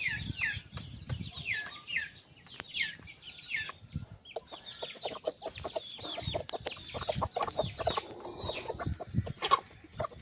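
A Taxila Aseel rooster and Thai hens cluck and call repeatedly at close range, with irregular scratching and rustling beneath and no talking.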